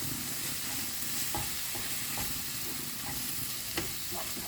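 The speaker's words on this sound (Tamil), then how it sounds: "இந்த எண்ணெயிலே நல்லா வதக்கி விட்டுருங்க இந்த மிளகாத்தூள்லாம்." Chili powder sizzles continuously in oil in a pan for squid curry while a spoon stirs and scrapes, with a few soft clicks against the pan.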